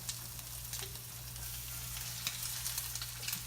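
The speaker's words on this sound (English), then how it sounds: "You want that sizzle, because you do want them to be golden brown on the bottom." Steady, soft sizzling crackles from salmon cakes frying in a pan under a low constant hum, with occasional brighter pops and no one speaking.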